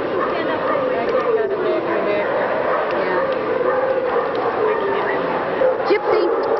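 An Alaskan Malamute at a 1982 dog show barks and whimpers amid steady crowd chatter, with several people talking throughout the busy hall.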